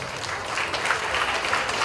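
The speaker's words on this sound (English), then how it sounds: "come on, you can clap for her." A crowd at the West Indian Parade breaks into steady applause, dense clapping filling the room at close range.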